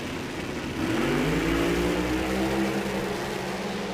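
Drag racing cars, one of them a Camaro, accelerating hard down the strip, a loud roaring engine climbing steadily in pitch over a few seconds, heard from nearby with no talk over it.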